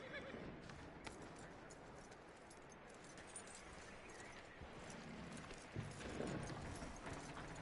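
Horse hooves clip-clopping in Red Dead Redemption 2, a quiet steady rhythm of hoofbeats with jangling tack and a brief whinny-like sound near the end.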